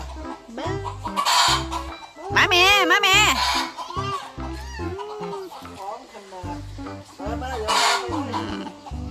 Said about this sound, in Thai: ไก่แจ้ทั้งสองฝั่งเลยอ